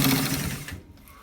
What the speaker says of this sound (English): So guys, we are stitching it where we have marked it.